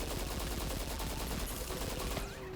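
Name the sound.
gunfire shooting at an enemy in the video game Destiny 2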